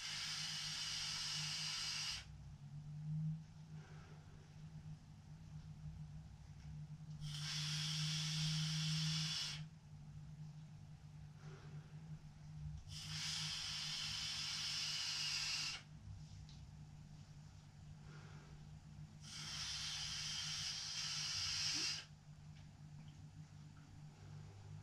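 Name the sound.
hiss of vapour from Vaporesso X-Mini pod e-cigarette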